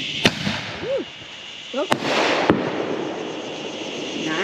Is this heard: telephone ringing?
no